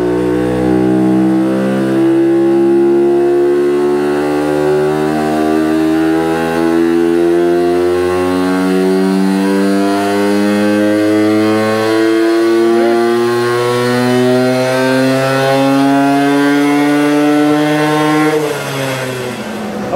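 A Herkules K50 moped fitted with a tuning exhaust revs hard and steadily, its buzzing two-stroke note climbing in pitch across the run, then dropping sharply near the end. The engine is loud and close, with no talk.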